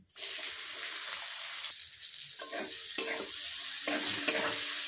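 Chopped onion sizzling loudly in oil with dried red chillies, bay leaves and whole cumin, a continuous hiss up close, broken by the scraping of a spatula stirring the pan.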